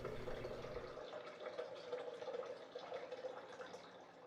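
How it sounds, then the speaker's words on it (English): Water runs from a tap into a Vitamix blender container, a steady hissing gush with a rising filling tone, close and fairly quiet. "I'm going to fill the container half the way"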